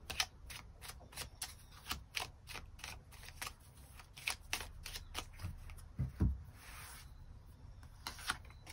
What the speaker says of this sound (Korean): 추가 카드로 일별로 월요일부터 일요일까지 어떤 하루를 보내게 될지 추가 카드 뽑아보도록